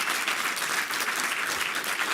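A lecture audience applauds a speaker at the 6th Annual Prof Wiseman Nkuhlu Lecture, with steady, dense clapping from many hands that holds at an even level throughout, with no voices.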